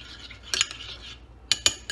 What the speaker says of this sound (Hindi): ये हम इसको अच्छी तरह से मिक्स करेंगे।